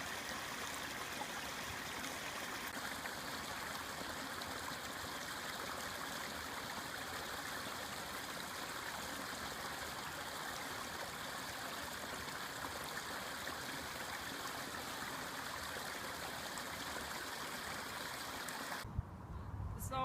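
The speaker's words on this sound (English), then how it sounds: "You can drink it right here, right from the river, right in this forest." A forest river in Norway flowing with a steady, even rush of water that holds constant throughout, with a brief disturbance near the end.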